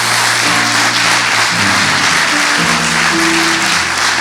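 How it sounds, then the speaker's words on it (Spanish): A church congregation applauds in a steady, dense wash of clapping that lasts throughout, with sustained musical tones beneath it. "Vamos, si va a aplaudir, hágalo para el Señor."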